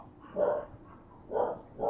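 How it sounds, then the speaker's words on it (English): Dogs barking and whimpering in a short burst, then again about a second later, fairly faint and at a distance, with no talk over them. "freaked the dogs out"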